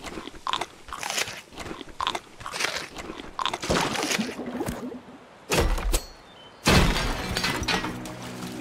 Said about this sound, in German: Oh, wir müssen essen. Ich esse mal eben was.